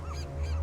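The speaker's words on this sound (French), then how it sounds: "Rien d'autre que des rochers et des mouettes." Seagulls calling on a rocky island north of Crete in the video game Sniper Elite 4, a steady cluster of nasal honking cries over a low background hum, moderately loud for under a second.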